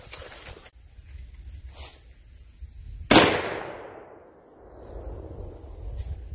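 A single loud shotgun blast of Black Aces Tactical 00 buckshot at an outdoor range, a sharp crack with a long trailing echo that fades over several seconds, with quiet ambient noise before it.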